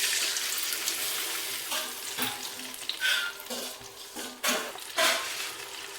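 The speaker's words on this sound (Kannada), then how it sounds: "ಈಗ ಹುಣಸೆ ಹುಳಿ ಹಾಕ್ಕೊತಿದ್ದೀನಿ ಅದಕ್ಕೆ." Tamarind is tipped into a pan of browned onions, and the hot oil answers with a loud, continuous sizzle that flares in several bursts as the mixture is stirred.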